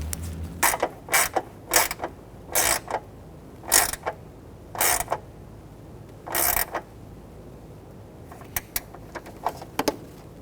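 A ratchet tightens a fog light housing bolt on a 2006-2010 Hummer H3, with short bursts of rapid clicking repeated at a steady pace, close and clear, and a last quicker flurry at the end.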